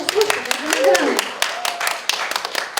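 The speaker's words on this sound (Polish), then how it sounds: "może brawa dla Jakuba, co?" Applause for Jakub at a rap competition audition about Father Jan, scattered sharp claps from a small audience that mix with talking and a voice across the middle.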